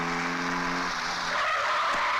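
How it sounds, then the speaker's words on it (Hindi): A car brakes hard to a stop, its tires skidding and squealing loudly and steadily over the engine's low hum, close by. "गाड़ी क्यों रोकी तुमने?"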